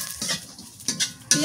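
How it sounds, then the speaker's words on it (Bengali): Chilli and cumin are fried and stirred in a pan, giving brief scraping strokes over a soft sizzle in a short, close burst. "মরিচ নিচ্ছি আর একটু জিরা নিয়ে ভাজতেছি।"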